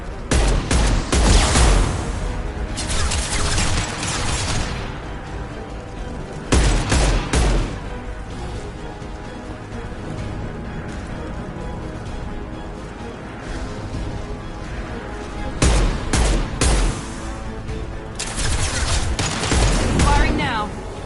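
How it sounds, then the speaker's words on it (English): Bursts of gunfire from Mass Effect 2 Legendary Edition, loud clustered volleys near the start, middle and end, separated by quieter stretches of combat ambience, with occasional in-game voices. "Firing now."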